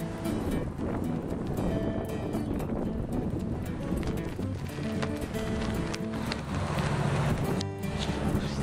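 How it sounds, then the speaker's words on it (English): Strong wind blows outdoors, where flags are flying, producing a loud, continuous buffeting rumble across the microphone with gusty surges and rustling throughout. "You hear that wind?"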